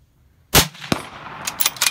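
A single sharp rifle shot from an Accuracy International AX chambered in 6.5 Creedmoor cracks loudly up close at a 100-yard range, followed by a metallic ring and faint clatter as the echo fades.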